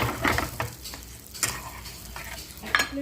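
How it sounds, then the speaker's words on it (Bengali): Cashews, melon seeds and poppy seeds frying in hot ghee, a gentle continuous sizzle with a spoon scraping and stirring against the pan every second or so, heard up close with no talking. "কাজুগুলো ভেজে নেব। দেবো একটু চালমগজ আর দেবো পোস্ত। এগুলো একটু ভেজে নেব।"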